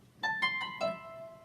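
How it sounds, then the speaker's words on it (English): A few plucked harp notes from a Ketron SD90 keyboard in quick succession, the last one ringing out and fading, quiet and clear. "Harp."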